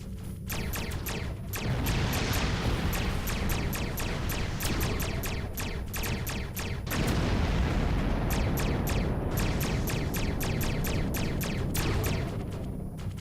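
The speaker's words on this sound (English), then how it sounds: "Ship explosions cause damage." Starship explosions in a Star Trek console video game, a barrage of loud booming blasts and sharp repeated cracks piling over a continuous roaring rumble, with no voices.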